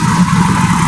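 City traffic in Kanpur near a busy crossing, with car and motorcycle engines rumbling and revving close by in a short, loud, steady burst.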